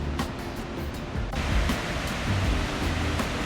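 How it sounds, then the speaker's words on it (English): Cumberland Falls, a Kentucky waterfall, sends out a steady broadband rush of water, a constant distant roar with no voices. "This is the overlook where you can stand right next to the top of the falls and get, you know, an iconic view with that awesome water spray"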